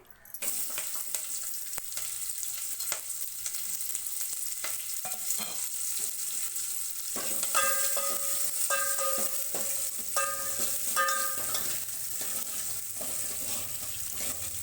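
Onions and curry leaves sizzle steadily in hot oil for a sprouted horse gram soup, a bright crackling hiss with occasional stirring clinks, no voices.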